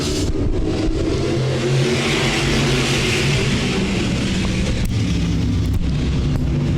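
Several modified race cars roar loudly together at the start of a 35-lap feature, engines accelerating in a dense, continuous wall of noise with a few sharp pops, no voices over it.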